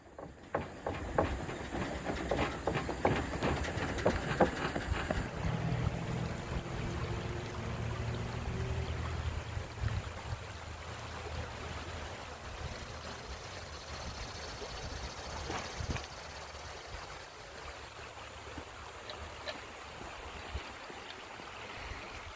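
Flowing water of the South Toe River in North Carolina, a continuous broadband rush and babble that is fuller and louder in the first seconds, then settles into a steadier, softer stream.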